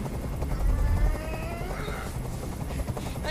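Helicopter hovering in the video game Detroit: Become Human, a steady close rotor thump with whining turbine tones rising and falling over a low rumble.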